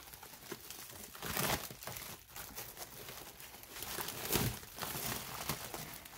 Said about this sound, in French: Hop, on va retirer le papier bulle.